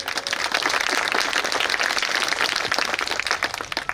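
A rally audience claps in dense, sustained applause, loud and close, with a steady wash of hand claps from start to finish and no voices over it.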